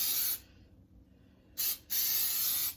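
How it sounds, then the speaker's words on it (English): Cooking spray hisses from a can into a cake pan in two bursts, a long one, a pause, then a brief puff and another sustained spray, close and loud. "now, see how I sprayed it? I sprayed it everywhere."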